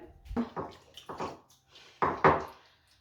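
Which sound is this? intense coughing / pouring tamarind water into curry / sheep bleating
pouring tamarind water into curry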